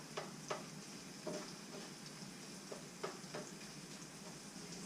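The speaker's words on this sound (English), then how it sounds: "Start to saute that down a little bit." Ingredients sautéing in a pan for a redfish muffuletta pasta, a soft, low-level sizzle broken by scattered light clicks and taps of a utensil against the pan.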